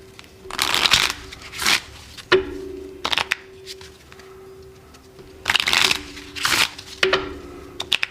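Cards are shuffled several times in quick bursts, each a crisp riffling flutter separated by short pauses, close to the microphone with a faint steady hum behind.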